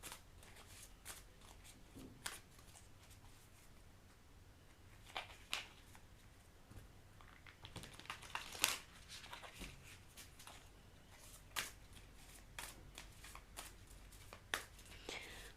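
Tarot cards being shuffled by hand, heard close and quiet as soft riffling and slapping bursts with irregular crisp flicks over a faint hum, and no clear talk over it.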